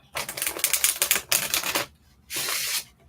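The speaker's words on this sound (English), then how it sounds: "Oh, that was a good shuffle." A deck of tarot cards is riffle-shuffled in three quick, crisp bursts, the first two longer and the last shorter after a brief pause, close and fairly loud with no talking.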